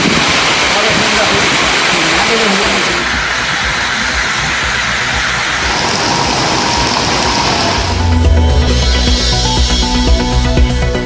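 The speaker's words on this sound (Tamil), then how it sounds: "சென்னையின் பல்வேறு இடங்களில் இடி மின்னலுடன் கனமழை" Dense, steady roar of heavy rain during a thunderstorm in Chennai, loud and continuous, with the texture shifting partway through to a lower, rumbling wash.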